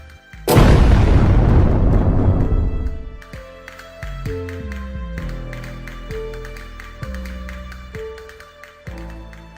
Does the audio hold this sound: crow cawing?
no